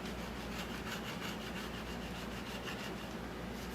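Rhythmic scratchy strokes of sanding down paint drips, steady and fairly quiet, rubbing back and forth close by with no voices.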